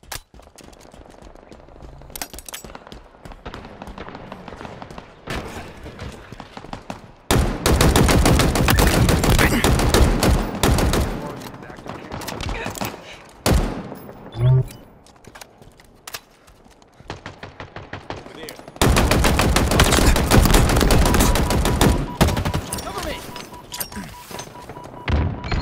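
Commando rifle fire in the video game Halo Infinite erupts in loud, dense automatic bursts, two long sustained volleys separated by quieter gaps with scattered thuds and shots.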